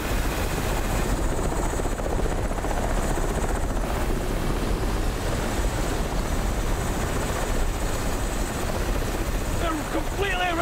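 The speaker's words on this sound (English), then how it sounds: "Nancy, on the chopper, go" Loud continuous helicopter rotor and engine roar close by, with people shouting over it near the end.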